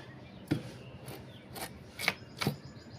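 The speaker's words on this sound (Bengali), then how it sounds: "তো লাউটা আমি প্রথমে এটাকে কেটে নেব।" A knife cuts through a soft bottle gourd (lau) in a home kitchen, giving five separate crunchy chops spaced about half a second apart, close and moderately loud, with no talking.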